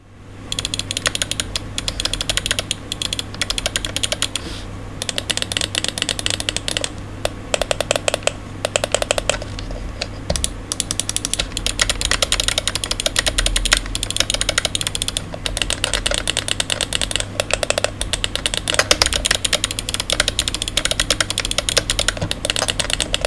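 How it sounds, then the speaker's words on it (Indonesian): Rapid, continuous clicking from a Rexus QB400 computer mouse, close up, over a steady low hum, with dense runs of clicks throughout and no talking. "untuk feel kliknya itu enak, kalian bisa dengerin sendiri deh"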